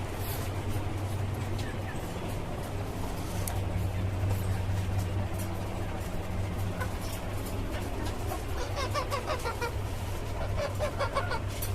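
Chickens cluck on a poultry farm with caged hens, including a local desi hen. The clucks are scattered over a steady low hum from the farm. A few bursts of louder clucking come near the end, and a voice is faintly heard.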